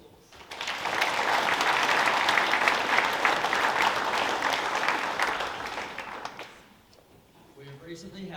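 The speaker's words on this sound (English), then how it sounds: "Can we please all give all competitors a round of applause?" An assembly audience at a school claps for athletics competitors, a dense, steady burst of applause lasting several seconds before fading out, followed by a brief voice.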